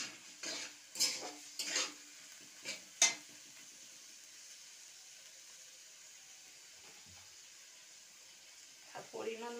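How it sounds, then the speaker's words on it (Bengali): Tomatoes and spices for ghugni stirred in a pan, with a few scraping clinks of a utensil against metal early on, then a long quiet low sizzle and a brief scrape near the end. "টমেটোটাও ভালো করে নাড়িয়ে নেব"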